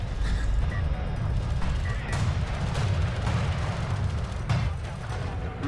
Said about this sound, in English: Soban rails do sound pretty good